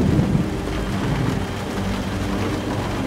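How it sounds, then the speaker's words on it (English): Steady rain with rolling thunder in the Tomb Raider: The Angel of Darkness video game, a dense continuous downpour with low rumbles, loud and constant throughout with no talking. "I can check this apartment out and get out of the rain."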